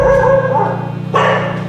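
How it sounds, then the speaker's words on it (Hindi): A dog barking loudly and close on a street at night, a couple of harsh sustained barks over a low steady engine drone. "कुत्ता आ गया भाई"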